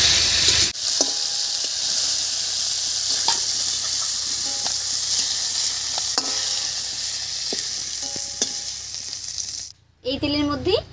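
Lightly fried prawns crackle in mustard oil in a wok with a continuous close sizzle, broken by occasional scrapes and clinks of stirring before a brief pause and a short voice at the end.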